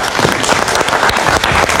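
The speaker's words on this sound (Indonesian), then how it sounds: "Kita kasih tepuk tangan sekali lagi untuk Reza." A live talk-show audience applauds film director Reza Rahadian, loud dense clapping filling the whole stretch without pause.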